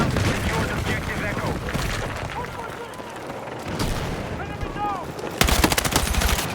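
Hip-fired guns crack in Battlefield 6 beta gameplay, with scattered shots and distant booms amid busy battle ambience, then a rapid sustained automatic burst near the end, loud and close.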